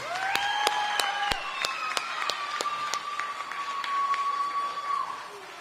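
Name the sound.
audience applause for the band and drum line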